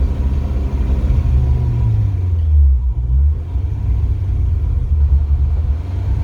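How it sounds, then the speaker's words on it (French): Ford Fiesta MK4 engine running, a steady low rumble that dips and surges as the revs rise and fall with an unstable idle, close and loud with no talking. "si j'accélère, ça va faire un trou dans l'accélération, puis après je vais monter en régime"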